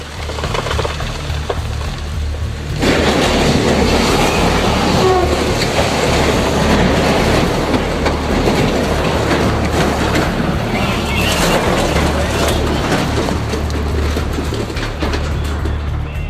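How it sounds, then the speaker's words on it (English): A heavy cargo train rumbles along the tracks in a steady, loud roar with a low mechanical drone, continuous throughout with no voices. "disaster struck and the train was derailed"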